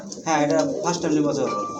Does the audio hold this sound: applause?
no